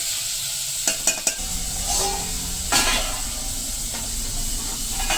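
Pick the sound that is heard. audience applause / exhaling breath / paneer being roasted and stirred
paneer being roasted and stirred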